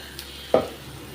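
Vellayappam batter frying in oil on a low flame, a continuous soft sizzle broken by one short scrape and splash as a piece is turned over, close up with no voices.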